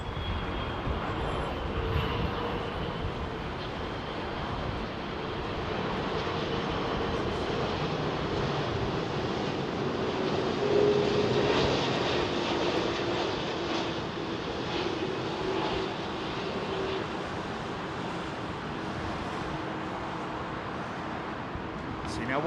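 An unmarked Qatar Airways Airbus A330 lands at London Heathrow, its engine roar a broad, steady, fairly loud rumble lasting throughout with slight swells and no talk.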